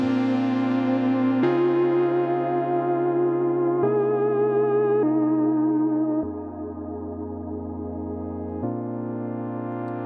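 A Moog-style analog lead from a Monark emulation holds long sustained notes with light vibrato, now washed in reverb that blurs each change of pitch; the tone is warm, loud and unaccompanied, with no voices.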